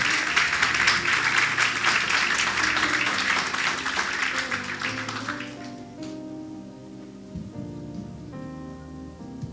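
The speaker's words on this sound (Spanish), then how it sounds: "Y pueden darle un fuerte aplauso a Dios." A church congregation applauds loudly, a dense wash of many hands clapping for about five seconds before fading out as instrumental music continues underneath.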